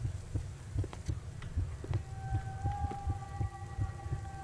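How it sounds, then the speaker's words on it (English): Heartbeat in the horror video game Kidnapped, a steady rhythmic double thump repeating about twice per second, low and close, with a faint tonal hum entering midway. "Why is the heart beating?"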